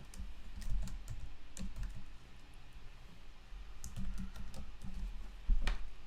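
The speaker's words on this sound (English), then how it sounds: "Now I got to type in the password." A password is typed on a computer keyboard, quiet irregular key clicks in short bursts with brief pauses and no talking.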